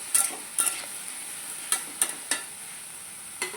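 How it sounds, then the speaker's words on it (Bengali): Cauliflower and potato filling frying in a pan, a low steady sizzle punctuated by about eight crisp scrapes and taps of the spatula at uneven intervals, with no talking. "ফুলকপি আলুটাকে ভালো করে ভেজে নেব"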